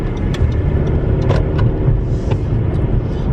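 A car's engine running steadily with a low rumbling drone and road noise, a few faint clicks and thumps from inside the cabin, no talking.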